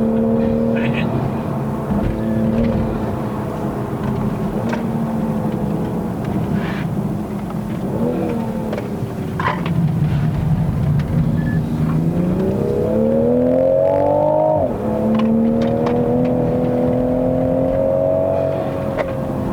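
A Toyota GR Supra A90 with the 3.0L engine climbs the uphill Genting mountain road, heard from inside the cabin. The engine note rises and falls through the revs over steady road and wind roar.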